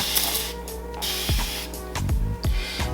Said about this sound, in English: So I'm just gonna spray, and I really like how it sprays. It's like a mist, see?